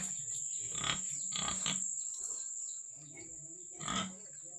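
Pigs grunting up close in short, rough bursts, a few clustered early and one more near the end, over a steady high-pitched whine.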